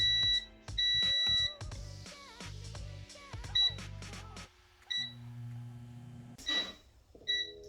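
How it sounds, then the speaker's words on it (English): An air fryer's control panel gives a series of short, bright electronic beeps as it is set, scattered among other low tones and hums in the kitchen. "So air fryer, 20, I'll put it on 22 minutes for now."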